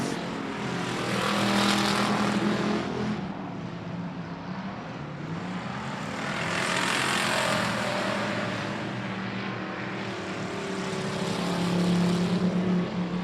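Race cars circling the I-37 Speedway oval in a regular race program, their engines swelling loud as they pass, then fading, in repeated sweeping waves.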